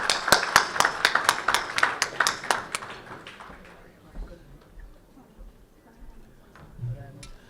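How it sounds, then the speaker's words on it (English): Loud, close applause breaks out at a business chamber's annual dinner, a fast run of sharp claps that fades after about three seconds into quiet room noise. "please, a big, big round of applause for him"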